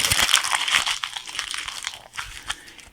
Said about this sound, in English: So I'm going to take some tin foil